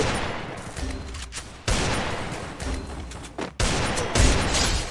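Bursts of automatic gunfire from the Free Fire battle royale game, loud and close in three sustained volleys separated by brief gaps.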